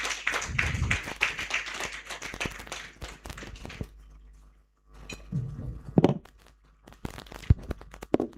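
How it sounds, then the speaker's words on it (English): A conference audience welcomes the Deputy Governor of the Bank of Uganda with a round of applause, a dense burst of clapping that dies away into quiet, then scattered shuffles, taps and a few isolated claps. "Please welcome with a round of applause."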